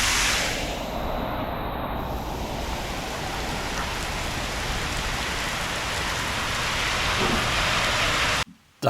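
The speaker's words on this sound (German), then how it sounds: "Da es nicht mehr aufgehört hat zu regnen" Steady rain pours during a bike ride, a dense, loud hiss of drops that holds level throughout and then cuts out abruptly near the end.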